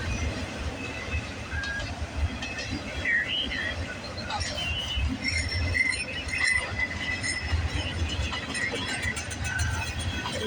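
A freight train hauling manifest cars rolls past steadily, with a continuous rumble of wheels on rail and occasional metallic squeals, while insects chirp faintly in the background.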